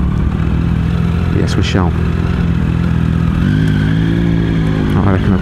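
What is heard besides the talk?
motorcycle accelerating in hail storm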